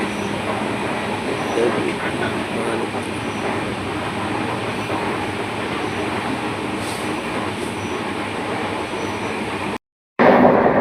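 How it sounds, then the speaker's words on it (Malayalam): Antyodaya Express rumbles steadily as it pulls out near Palakkad, a dense continuous roar of wheels and carriages heard from inside, faint voices beneath, ending in a brief cut and a louder burst. "നമ്മുടെ ട്രെയിനും ഇവിടെ നിന്ന് വിട്ടു കേട്ടോ."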